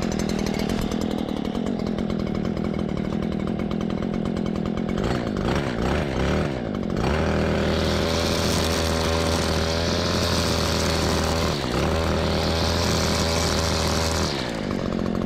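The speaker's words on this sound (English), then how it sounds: "As soon as you pull the trigger, like I said, it turns the choke off, and, well, it's actually idling." A Stihl FS 94 R carbureted small-engine string trimmer runs steadily at close range, its buzzing drone rising in pitch and loudness partway through as the throttle opens to about half.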